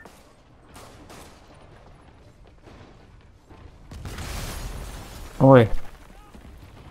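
Rocket launcher firing in a Spider-Man video game: one short, loud blast whose sound swells briefly and then cuts off, coming after a rushing burst of game noise, with voices talking over the action.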